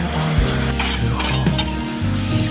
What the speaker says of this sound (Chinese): 再把去年晒干的各种菌子放到里面一起炒